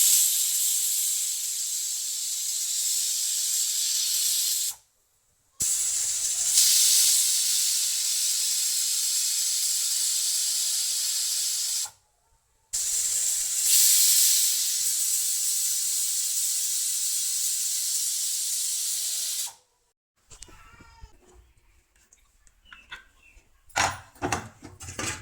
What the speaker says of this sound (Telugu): ఒక 4 విజిల్ వచ్చిందాక పెట్టేసేయి, మంట పెద్దగా పెట్టేసి